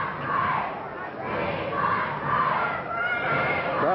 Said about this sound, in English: Crowd's making a lot of noise.